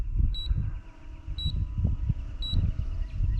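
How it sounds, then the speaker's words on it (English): Three short, high electronic beeps at even one-second intervals over a low brushless motor whir as a TSRC A6 mini GPS camera drone returns to home. "Beeps let you know that you are returning to home."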